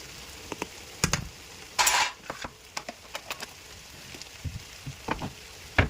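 A spoon stirs chicken curry with masala in a pan, giving irregular metallic scrapes and clinks against the pan at varied intervals over a faint sizzle, close and fairly quiet, with no talk.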